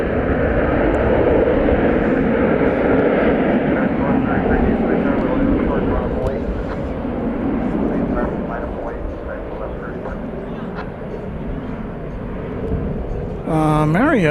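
American Airlines Boeing 737-800, flight 2399, at DFW Airport in the evening: loud, steady jet engine roar with a broad rushing quality, easing slightly toward the end, with a voice talking over it.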